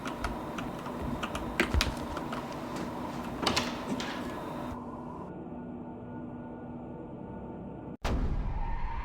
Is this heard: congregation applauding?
no